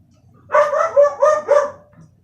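A dog indoors barks four quick times in a row, close and fairly loud, in a short burst against a quiet room.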